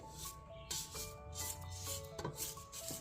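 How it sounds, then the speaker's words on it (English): A spatula scrapes cake batter of butter, sugar and eggs off the sides of a mixing bowl, soft close rubbing and scraping strokes repeated irregularly at low volume. "Scrape off the edges a bit."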